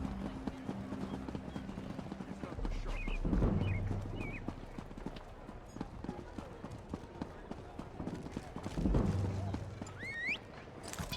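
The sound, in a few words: horse hooves while riding in Elder Scrolls Online video game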